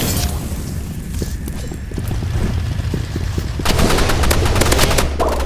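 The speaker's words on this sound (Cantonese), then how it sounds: "突擊步槍又殺死咗我。" Rapid assault-rifle fire in the Roblox shooter Rivals, a loud, dense stream of close gunshots with repeated bursts that grow heavier toward the end, amid other game sounds and no clear speech.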